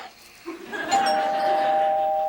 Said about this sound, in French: la sonnette de porte personnalisée à cette heure